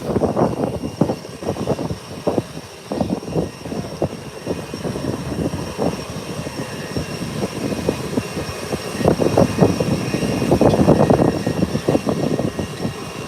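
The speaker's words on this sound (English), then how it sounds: "A G5 is heading down the runway for takeoff" A G5 business jet rolls down the runway on its takeoff run, a steady broadband engine roar that swells louder toward the end as it accelerates past.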